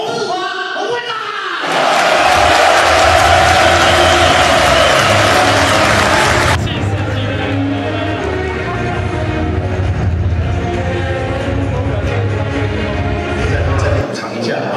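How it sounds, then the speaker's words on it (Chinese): A loud burst of applause fills a year-end banquet hall of the Taiwanese business association in Hanoi, Vietnam, welcoming the conference chairman. It lasts about five seconds before giving way to quieter music. "非常热烈，非常大的掌声来欢迎我们的大会主席洪志华洪会长"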